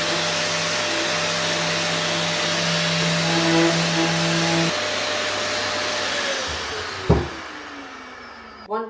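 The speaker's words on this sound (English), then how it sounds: "Any sander will do. Sand it, then we're gonna prime it" An electric sander works over IKEA furniture with 120-grit sandpaper, a loud steady whirring drone with a shifting tone that cuts off near the end, followed by a couple of brief knocks.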